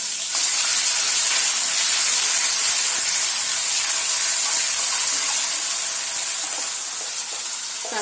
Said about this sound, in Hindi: इसके बाद हम इसमें ये प्याज डाल देंगे जो हमने पीसा हुआ है।